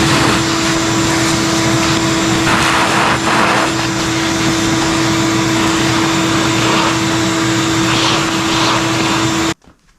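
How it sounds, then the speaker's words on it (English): Vacuum cleaner running steadily while cleaning out the interior of a 1977 Trans Am, a loud continuous motor whine with a sharp tone, cutting off abruptly near the end. "Let's vacuum this before I pull it off."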